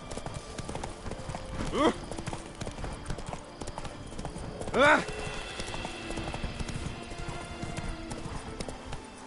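Hooves clip-clop at a steady trot in a PS4 video game, with a horse whinnying twice over the rhythmic footfalls and a voice speaking at times.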